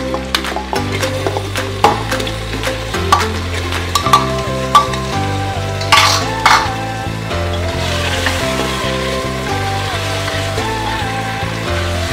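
Chicken fries in a pan with browned onion, tomato and green chili for chicken biryani, a continuous sizzling hiss with occasional clinks, heard beneath prominent background music.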